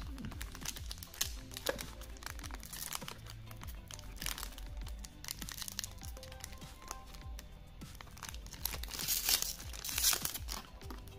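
A Yu-Gi-Oh Dimension Force promo card pack is torn open by hand, with continuous crinkling and tearing of foil wrapper close up, sharp rustling bursts throughout and no talk.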